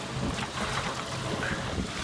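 Steady wind buffeting a small sailing dinghy on a shallow lake, a continuous rushing breeze over the mic with faint water lapping beneath, no voices.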